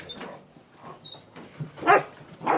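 A working dog gives short, close whimpering yips and barks in an indoor room, several bursts at irregular intervals with a louder burst near the end.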